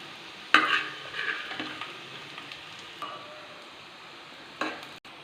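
Bitter gourd is sautéed in a pan with a soft, low sizzle, broken by a few scraping stirs and light clinks of the utensil against the pan.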